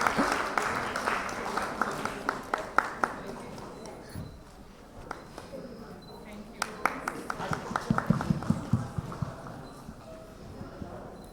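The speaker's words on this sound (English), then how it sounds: "Round of applause for all of them." An audience at a medical nutrition conference at ITC Gardenia, Bengaluru, gives scattered, uneven applause of sparse individual claps that swell and fade. A voice speaks over the clapping in a hall setting.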